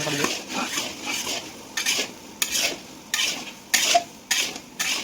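A spoon stirs onions and tomatoes frying in a pan for poha, with rhythmic scraping strokes about every half second over a soft, continuous sizzle, close and clear.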